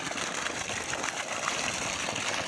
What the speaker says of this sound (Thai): น้ำท่อสองนิ้วก็ยังเต็มท่ออยู่นะครับ